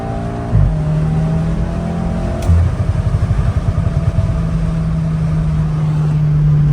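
A VW GTI engine pulling hard at about 5,000 RPM, heard from inside the car: a loud, steady drone with a brief clattering burst partway through, then sustained engine tone.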